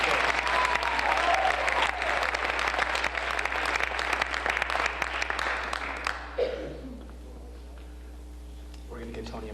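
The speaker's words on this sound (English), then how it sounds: "Yeah, give Tony a round of applause." An audience at a village board meeting gives a round of applause, dense steady clapping for about six seconds that then quickly dies away, leaving low room hum and a voice starting to speak.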